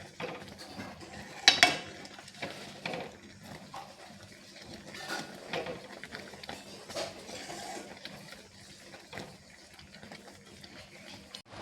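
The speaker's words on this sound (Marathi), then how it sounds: "आता हे थोडं घट्ट होईपर्यंत त्याला ढवळत राहायचं सारखं." A spoon stirs thickening murabba sugar syrup in a pot, giving faint, scattered metallic clinks and scrapes against a quiet background, with one louder clatter early on.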